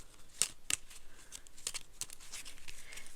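Randomizer cards being shuffled by hand, giving a few sharp riffling snaps followed by quieter papery rustling and flicking, close and alone.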